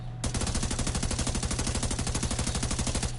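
Rapid automatic fire from a P416 rifle in The Division 2, a single sustained burst of evenly spaced shots lasting about three seconds, loud and alone.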